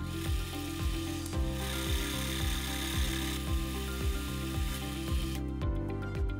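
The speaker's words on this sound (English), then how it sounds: "I bring the last face to its final dimension and I turn the outside diameter." A mini lathe turns the outside diameter of a truss bearing washer, giving a steady close machining drone with a repeating rhythmic scrape as the cut goes on, alone and without voices.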